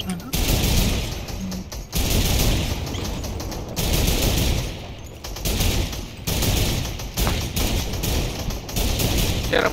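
Rapid bursts of gunfire from a Fortnite Chapter 2 end-event battle, loud and near, with repeated machine-gun volleys broken by short pauses across the whole stretch.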